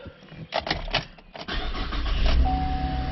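A 2013 Chevrolet Camaro V6 with an automatic transmission and a failing alternator cranks over with quick clicks, then catches and settles into a steady close idle, with no talk.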